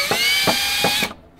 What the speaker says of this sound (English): So I'm gonna get a couple of screws started.